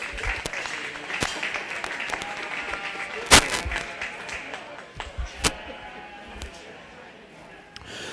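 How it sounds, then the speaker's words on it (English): Scattered audience applause at a 4-H/FFA sheep and little lambs show, a broad steady patter of clapping with a few sharper claps standing out and some voices murmuring underneath. "let's give these girls a round of applause"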